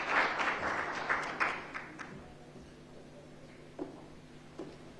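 Applause from a seated audience welcoming a keynote speaker at a development roundtable, loud and dense at first, then thinning into scattered claps and fading away under a low hum.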